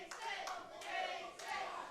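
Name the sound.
wrestling crowd clapping and cheering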